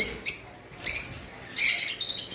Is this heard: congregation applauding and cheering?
no